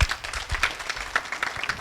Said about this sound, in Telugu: చాలా మంచి పాయింట్, చప్పట్లు కొట్టాలి మీరు.